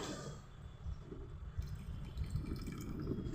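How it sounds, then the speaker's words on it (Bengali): Water is poured into a curry for a vegetarian Bengali fish-style jhol, a faint, close trickle and splash with low bubbling underneath, steady for a few seconds. "আর একটু লাগবে পানি"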